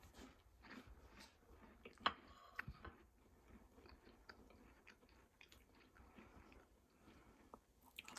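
Lemon basil cookies, crispy outside and soft inside, being bitten and chewed up close, with quiet crunchy bites and soft mouth sounds repeating irregularly over about eight seconds, no talking.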